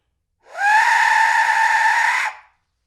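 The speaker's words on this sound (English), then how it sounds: "I want a death whistle, Dad. The Aztec death whistle." A 3D-printed Aztec death whistle blown in one long, loud, shrill scream with a harsh, rasping whistle tone, holding steady for about two seconds and then cutting off, with nothing else heard.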